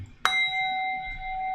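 A single bell struck once at a stock market opening, a bright metallic ding with a sharp attack followed by a long, clear ringing tone that sustains steadily, close and moderately loud.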